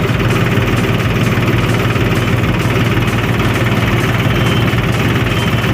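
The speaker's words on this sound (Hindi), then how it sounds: "तो ये घूम रहा हमारा ट्रैक्टर वापस से पीछे चले जा रहा है" A tractor engine runs steadily while the tractor turns and reverses back the way it came, a loud, close, continuous diesel chug with a low rhythmic knock throughout.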